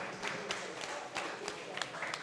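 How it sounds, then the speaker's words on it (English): Moderate applause from two skittles teams after a turn, a quiet patter of clapping from a small group indoors, slightly distant and without talk. "Well-deserved round of applause from both teams."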